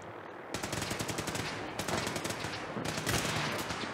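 Rapid automatic gunfire in the video game Fallout 4, loud sustained bursts of shots broken by short pauses, heard alone with no talk.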